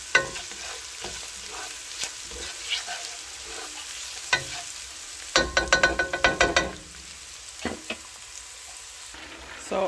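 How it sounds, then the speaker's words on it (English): Onion and garlic sauteing in a pan for pork humba, with a steady sizzle under repeated scraping and stirring strokes and a brief burst of quick clattering taps midway, close and fairly loud. "I'm just gonna saute it."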